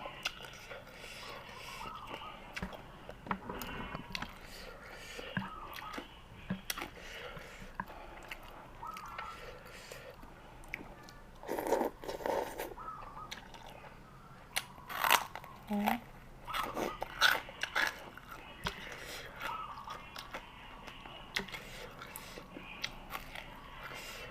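Crispy pork is bitten and chewed close to the mic during a meal of spicy papaya salad with rice noodles, giving scattered crunches and softer wet chewing, with someone talking at times.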